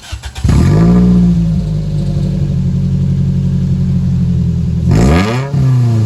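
Toyota Celica with its muffler removed, engine blipped to a loud raspy rev, held at a droning high idle, then revved again sharply near the end, close and unmuffled.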